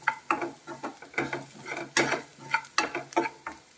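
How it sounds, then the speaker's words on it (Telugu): A spoon scrapes and stirs chili powder and salt through sizzling onions in a pan for chirraku egg fry, making steady close scraping strokes over a soft frying hiss. "మనం మిరప్పొడి వేసుకుందాం, ఉప్పు బాగా కలుపుకుందాం"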